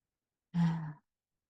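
A single slow, voiced exhale during a guided forest meditation, soft and close, lasting about half a second before silence.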